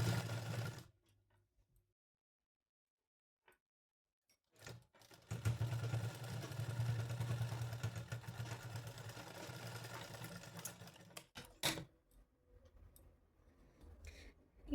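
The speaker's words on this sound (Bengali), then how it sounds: "কোমরটা এবার ধরে ধরে সেলাই করব" A sewing machine stitches the waistband of a small Laddu Gopal dress made of matching seven-colour cloth. It runs in a short burst, goes quiet, then runs in a long steady whirring stretch before stopping with a few clicks, close and alone.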